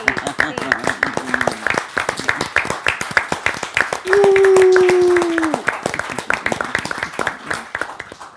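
Theatre audience clapping sounds as a steady patter of many hands throughout, partly under a voice, with a sustained vocal tone rising above it midway.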